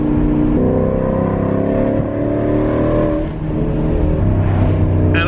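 A 2019 Ford Mustang GT V8 with a JLT intake and Lund tune pulls hard under acceleration, its engine droning loud and continuous with harmonics climbing through the gears and a brief dip before the revs build again.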